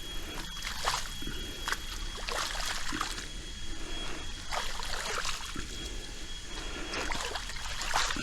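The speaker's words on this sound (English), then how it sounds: "we got some decent water flow through here" Water trickling and sloshing through a bored channel, a continuous low flow with intermittent splashy bursts and scraping, fairly close and alone without talk.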